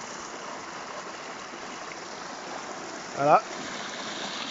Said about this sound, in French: Voilà, ça c'est la rivière.